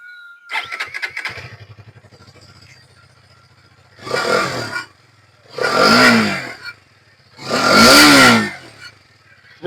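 A Hero Karizma XMR 210 motorcycle starts with a clattering crank, idles, then three loud throttle blips swell and fade from its exhaust, heard up close with no voices.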